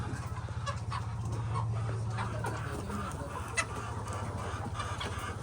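Laying hens cluck on a poultry farm. Soft overlapping clucks and murmurs from several birds sit over a steady low hum, moderately close with no talking.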